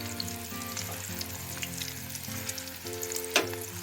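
Sliced onions sizzle in hot oil in a pan for crisp aloo tikki, a soft steady crackle and hiss with occasional stirring scrapes and no talking.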